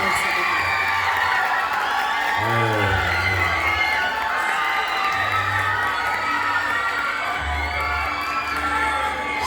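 A crowd at the grand final of a school text and eloquence contest cheers, whoops and applauds for the competition's best player, with children's shouts and a voice rising above a continuous loud roar.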